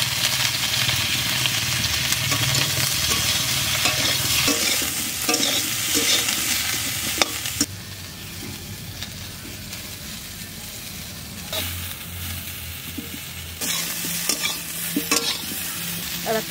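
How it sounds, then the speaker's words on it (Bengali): Cauliflower is stir-fried in oil with turmeric in a wok. A constant sizzle runs under repeated scraping and stirring strokes, easing into a quieter spell midway before the stirring picks up again. "কপিটা একটু ভেজে নেব"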